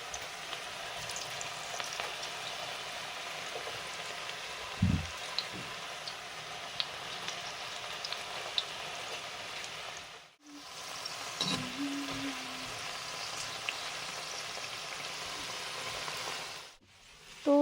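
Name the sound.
pakoras (onion and potato fritters) frying in a pan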